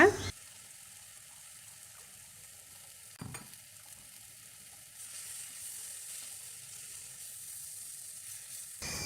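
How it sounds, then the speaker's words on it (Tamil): Blended tomato sizzles steadily in a hot pan for a Tamil okra kara kuzhambu, with a clatter partway through and a louder hissing stretch later; no talking. "தக்காளி சேர்த்துட்டு நல்லா வதக்கிக்கலாங்க"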